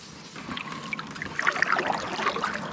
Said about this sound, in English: paddling